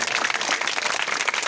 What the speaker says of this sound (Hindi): तो सभी लोग एक बार जोरदार तालियों से स्वागत करें।